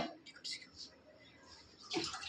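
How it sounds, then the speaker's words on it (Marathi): Colocasia leaves are rinsed by hand in water, giving faint, brief splashes and trickles with a soft wet swish at the end. "प्रत्येक पान असं स्वच्छ धुवून घेणार आहोत आणि असं स्वच्छ धुवून घेतलं की परत एकदा चांगल्या पाण्याने आपण धुणार आहोत"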